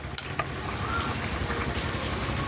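Shukto, a Bengali vegetable dish with fried bitter gourd, being stirred in a pan as ground poppy seed and mustard paste go in; steady close sizzling with a few sharp utensil clinks and scrapes near the start.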